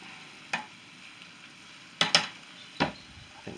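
Sprats fry in a pan splashed with Stella beer, a faint hiss broken by a few sharp scrapes and clatters of stirring.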